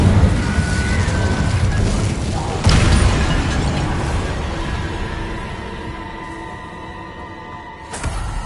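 Incendio fire spell cast in the video game Hogwarts Legacy: a loud whooshing burst with a heavy boom near the start, a long fading rumble, then a second sharp burst near the end.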